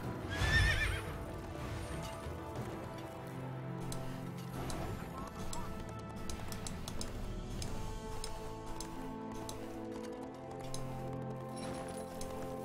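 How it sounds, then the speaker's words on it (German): A horse neighs loudly at the start in the fantasy game Drakensang Online, followed by steady clip-clop of hooves as it is ridden, with music playing underneath throughout. "Lass mal reiten."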